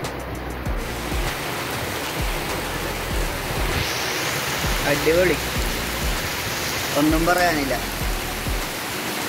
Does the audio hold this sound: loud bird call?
no